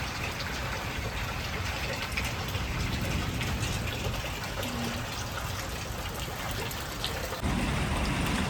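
Steady rain falls in the mountains as a heavy downpour eases, a dense continuous patter and hiss of drops on surfaces, close and even throughout with no voices.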